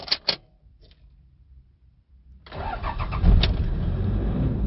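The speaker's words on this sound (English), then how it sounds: "Rev up your engines." The diesel engine of a Toyota Innova cranks with a few sharp clicks, falls quiet briefly, then starts and revs into a loud, rough, rising roar that stays up close.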